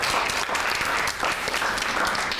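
A studio audience on a school quiz show claps for a quiz team in a steady, full round of applause lasting a few seconds, close and continuous, with no talk over it.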